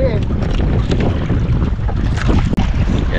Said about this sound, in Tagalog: medyo lumalakas na talaga pati hangin, pati alon.